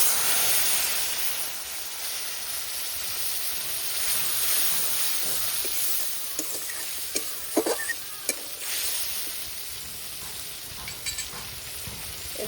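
Spice paste mixed with curry leaves hits a hot pan for a Bangladeshi sour-spicy fish dish with young mango, giving a loud steady sizzle and hiss, with brief stirring clinks and scrapes rising toward the middle.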